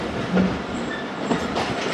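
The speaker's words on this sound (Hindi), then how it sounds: "गाड़ी पहुंच रही है दरिया खान रेलवे स्टेशन" A train pulls into Darya Khan railway station in the evening, with a steady rumble and faint rail clatter rising and falling alone at moderate distance.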